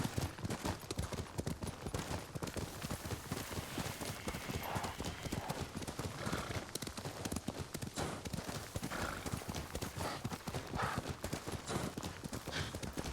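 Steady, rapid hoofbeats of a galloping horse in the video game Ghost of Tsushima, continuous and close throughout, with no voices.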